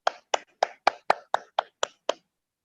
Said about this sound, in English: Can we clap for each other all together?